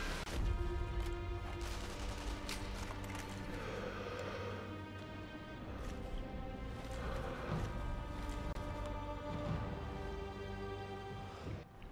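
Gunfire in the video game Sniper Elite V2, with repeated shots and bursts crackling over a steady droning game soundscape, fairly distant and continuous throughout, with no voices over it.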